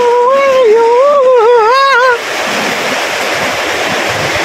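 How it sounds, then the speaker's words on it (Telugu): A monsoon-season waterfall in the Udayagiri hills of Nellore district gives a steady, loud rushing roar, with a brief tonal vocal sound over it at the start. "కనపడుతుందిగా జలపాతం."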